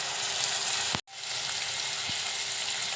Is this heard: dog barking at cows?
no